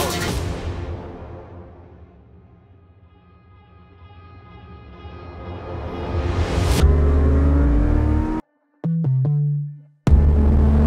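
Sports cars, including Lamborghinis, roar past loudly in Puerto Banús, engines rising as they approach and revving hard with sharp gear shifts, close and aggressive, with a brief cut in the middle.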